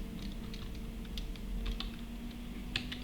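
Rapid keystrokes on a computer keyboard, close and steady in short bursts over a constant low electrical hum while a number is entered in a Java program.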